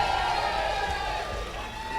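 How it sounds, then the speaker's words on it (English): A crowd cheers and whoops at an off-road racing championship presentation, a dense, sustained roar of voices with scattered applause throughout. "Daz brought along his own cheer squad"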